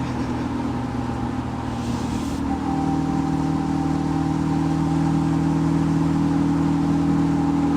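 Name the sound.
car engine revving with clutch flare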